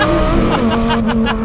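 2008 Lamborghini Gallardo Spider at full throttle, a loud, close engine roar holding a strong steady tone with rough mechanical texture throughout.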